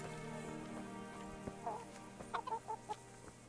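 Chickens cluck softly in a village in the medieval game Kingdom Come: Deliverance, a few short clucks over a low steady ambient background, with faint voices around.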